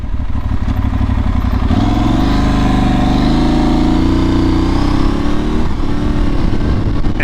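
An Aprilia Tuareg 660 motorcycle rides along a road, its engine droning loud and close, rising in pitch as it accelerates and then easing off, mixed with steady wind rush.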